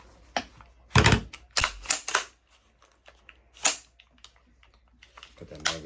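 Foxton 10.5-inch AR pistol being cleared, with several sharp metallic clicks and clacks of the action worked close up, a couple of louder snaps among lighter ticks.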